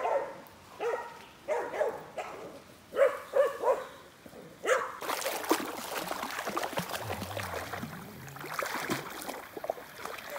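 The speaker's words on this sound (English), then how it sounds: "That's my dogs." Dogs bark in a series of short, separate barks at moderate distance, then splashing water and rustling take over.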